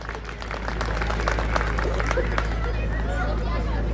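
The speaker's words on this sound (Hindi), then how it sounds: "जरा इनके लिए ताली बजाइए।" Audience at a public talk applauding, a steady dense wash of clapping mixed with crowd murmur, fairly loud and continuous throughout.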